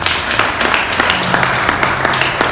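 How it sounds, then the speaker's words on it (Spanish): An audience at an academic talk on agrarianism in Veracruz applauds a museum director, a dense wash of clapping with a few sharper individual claps standing out. "Por favor, un aplauso para él"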